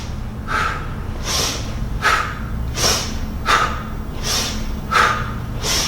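A person doing kettlebell swings breathes in a steady rhythm, with about seven sharp, airy breath bursts spaced under a second apart. Each breath is close to the mic over a low background hum.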